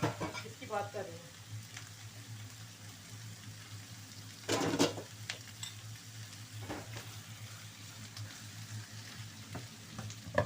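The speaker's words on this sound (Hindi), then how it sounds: "अब मैं थोड़ा तेज़ आंच में चिकन को भून लूँ, ओ कीमे को।" Minced chicken keema fries over high heat with spiced tomato purée, a continuous low sizzle joined by a loud stirring clatter near the middle and scattered scrapes of the pan.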